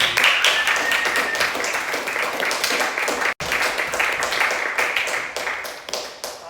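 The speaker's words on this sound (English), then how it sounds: "Another round of applause for Caidyn Bearfield." An audience at a live event applauds at close range, a dense, sustained clapping that briefly cuts out midway before resuming and slowly tapering.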